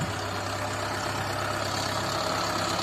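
Tractor engine running in a field during sowing of golden peas while the tractor is being adjusted, a steady, loud idling drone that continues without a break.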